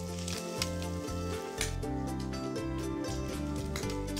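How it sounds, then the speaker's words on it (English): Bacon sizzles and crackles steadily in a hot pan, close and continuous, with faint tonal music in the background. "it is really important to have some courage when you're frying the bacon"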